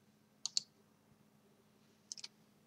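Two quick pairs of crisp mouse clicks, close and quiet, separated by a short pause over faint room hiss, as a Minecraft skin is picked and downloaded.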